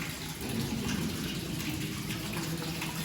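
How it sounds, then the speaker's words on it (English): Fresh spring water pouring down a rock face at Geghard monastery in Armenia, a steady close splashing rush with no voices. "there is the rock and the water just pours down the rock"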